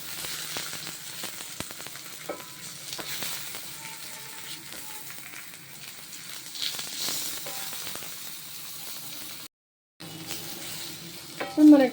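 Tomato pieces fry in oil in a pan for sesame chutney, giving a steady soft sizzle with occasional stirring clatter, a brief drop to silence near the end and a louder clink at the close.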